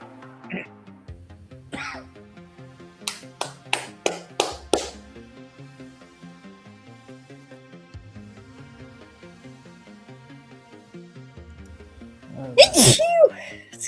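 A person sneezes once loudly near the end after several seconds of quiet background music and a run of sharp taps, like dice or fingers on a table, during a tabletop game session.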